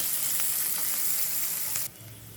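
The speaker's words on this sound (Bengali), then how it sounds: "এটা হালকা একটু নরম হয়ে আসা পর্যন্ত আমি এটা ভাজতে থাকবো" Chopped onion and green chili fry gently in a pan for vegetable noodles, giving an even, close sizzle that drops abruptly to a quieter crackle near the end.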